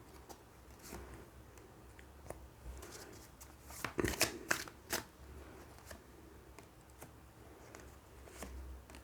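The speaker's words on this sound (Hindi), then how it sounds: "मैं थोड़े से कार्ड्स और लेती हूँ।" Tarot cards are handled and shuffled during a reading, giving soft papery riffles and scattered light taps, with a brief denser flurry in the middle, quiet and close.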